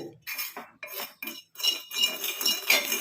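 A spoon scraping and clinking in a pan while amla (gooseberry) powder and kadukkai powder are stirred into a black hair dusting powder, in irregular close bursts with short pauses.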